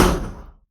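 A single knock on a door, one sharp close thump that quickly decays into silence.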